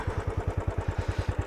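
A Royal Enfield Desert Storm motorcycle idling in neutral, giving a close, steady low thumping beat of regular single-cylinder pulses, loud and unbroken with no voices.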